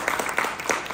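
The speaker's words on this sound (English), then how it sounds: "I'd like a round of applause." A congregation gives a round of applause for a man's wife, a short stretch of close, overlapping claps with a few sharper individual hits standing out.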